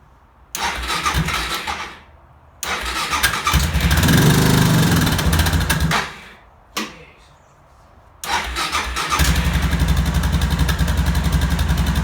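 Repeated cold-start attempts on an engine, likely a motorcycle with its headlight on: starter cranking bursts separated by pauses, then the engine catches and settles into a loud, steady idle.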